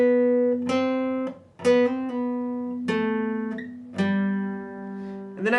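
An acoustic guitar plays a song introduction slowly, with single picked notes and chords ringing out one at a time with pauses between, close and clear with no voices.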